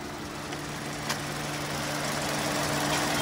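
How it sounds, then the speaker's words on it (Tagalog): A Hyundai Tucson engine idles with a steady, quiet hum and low, even tones, holding constant throughout with no voices. "Napakatahimik ng engine niya."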